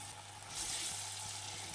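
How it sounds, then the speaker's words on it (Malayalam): Banana flower vada frying in hot oil, a steady soft sizzle with broadband crackle that swells slightly midway, close and alone with no voices. "ഇനി ശ്രദ്ധിക്കേണ്ടത് എണ്ണ നന്നായിട്ട് ചൂടായതിന് ശേഷം മാത്രം ഓരോന്നായിട്ട് പെറുക്കിയിടുക."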